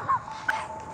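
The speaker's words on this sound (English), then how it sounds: "These dogs just can't stop" Dogs giving a couple of short, high yips and whimpers, close and fairly loud, in a brief burst.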